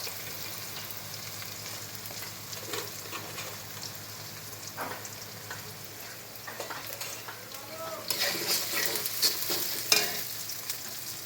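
Spices frying in oil for a goat head and mung dal dish, a quiet, steady sizzle with soft stirring that grows louder and more clattery toward the end.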